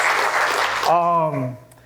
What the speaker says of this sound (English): can I just get an applause?